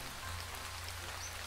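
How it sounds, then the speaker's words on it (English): Poison rain in the video game Starbound, a dense steady hiss of falling rain pattering evenly throughout, loud and continuous with a low hum beneath, no voices. "Poison rain, ugh."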